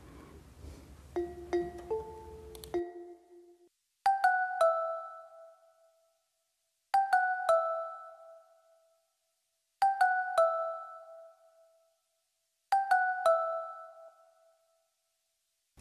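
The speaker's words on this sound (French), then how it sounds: "Voilà, c'est un son de Karimba." A kalimba-style plucked tone in FL Studio for a kompa beat: after a short melodic run at the start, four bright ringing note clusters repeat at an even pace, each chiming and decaying quickly into silence, fairly quiet overall.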